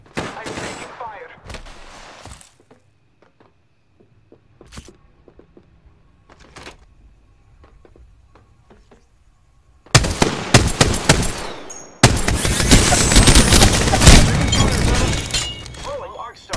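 Apex Legends gunfire rings out, first as scattered quieter shots, then as dense, loud, sustained bursts of automatic fire that fill the closing seconds.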